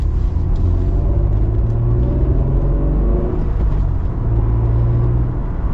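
An original Acura NSX supercar drives along with a loud, steady engine rumble and road drone inside the cabin, holding a constant level with a slight shift in tone partway through; nobody speaks.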